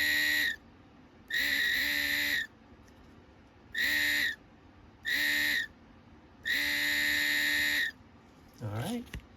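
A Mercedes GL 550 multicontour seat motor whirs in five separate bursts of varying length when voltage is applied on a bench, a high buzzing whine with pauses between runs.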